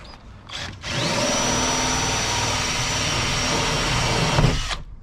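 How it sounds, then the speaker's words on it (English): A power drill runs in reverse, boring through a carpeted wall of an overland trailer: a steady high whine holds for about four seconds after a brief start, then cuts off. "I put the drill on reverse, because if you don't do that, when it hits the carpet, it'll just rip all the carpet off the wall"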